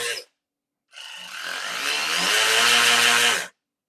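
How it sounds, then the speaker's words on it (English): A Snap-on 1/4 inch electric ratchet spins a socket with a close, loud motor whir, running about two and a half seconds after a brief short burst, its pitch slowly rising. "I just feel like the snap-on may slow down a little bit more than the Matco did with the weight of the socket on there"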